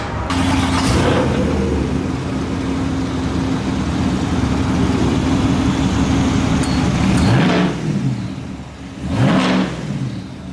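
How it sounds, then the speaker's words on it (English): A supercharged 650 hp 2024 Chevrolet Silverado ZR2 Bison with a track exhaust and tips roars loudly and steadily up close, then rises through two sharp revs near the end. "this has their track exhaust on it with the dash bar tips for the ZR2"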